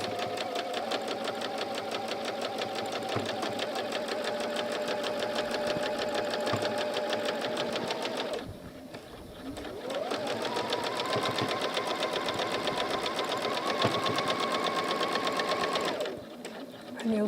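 A sewing machine runs steadily, stitching a quarter inch in along a quilt border edge, with one brief pause before the whirring rhythm resumes; it stays close and fairly loud throughout.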